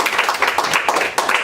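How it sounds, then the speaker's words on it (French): A brief burst of audience applause, dense and steady clapping from many hands at close range, lasting just over a second. "la troisième candidate c'est Marine, qu'on applaudit."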